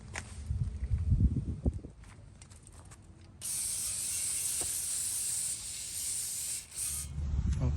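Steady hiss of a spray can laying high heat paint onto a car exhaust header, a loud continuous spray lasting several seconds with a brief pause, preceded by rustling handling noises.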